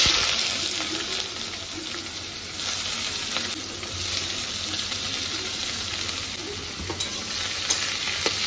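Chopped onions sizzle and fry in a pan of hot oil with whole garam masala spices, chillies and cumin, a steady close hiss with occasional stirring scrapes throughout.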